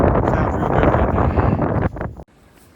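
Wind gusts steadily across the microphone on a breezy Appalachian Trail hike, a loud, continuous rushing roar that suddenly drops away near the end.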